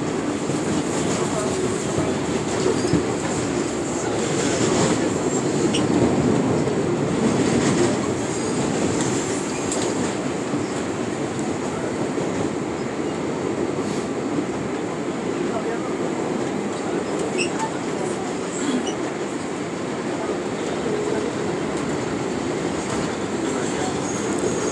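A New York subway train riding on the 7, N and W lines rumbles steadily from inside the car, with wheel clatter, occasional squeals and a constant roar, and faint voices now and then.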